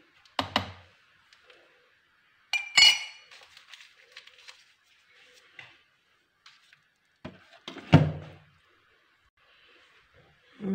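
Glass cups clinking as ingredients are measured into a glass in a home kitchen, with a few sharp separate clinks and taps spaced across a quiet background, no talking.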